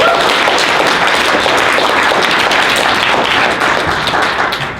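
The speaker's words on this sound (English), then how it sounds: "Give Daniel a round of applause." A workshop audience at an acting workshop gives a sustained round of applause, dense and steady clapping filling the room at close range before it starts to taper at the end.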